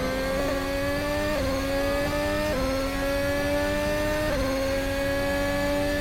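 A race car engine at high revs during a race, a loud, continuous drone held close with brief dips and pitch shifts at each gear change, running steadily throughout.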